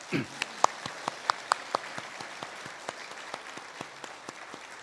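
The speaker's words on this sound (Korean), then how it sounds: "우리 큰 격려의 박수 하겠습니다" A church congregation at a Sunday worship service claps in encouragement for a young violinist leaving to study in Canada; the applause is sparse and fairly faint, with scattered individual claps over a soft room background.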